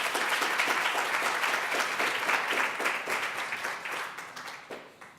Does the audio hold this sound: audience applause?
yes